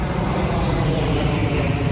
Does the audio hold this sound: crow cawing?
no